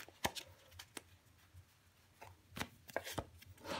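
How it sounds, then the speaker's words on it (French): Tarot cards being shuffled, a string of soft papery riffles and taps coming in short irregular bursts, close and fairly quiet with no talking. "Si j'arrive à battre les cartes déjà pour commencer"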